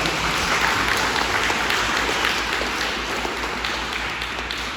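Sustained applause from a crowd at a fifth grade celebration assembly for two Lego League team members, a thick steady patter of clapping with no talk over it.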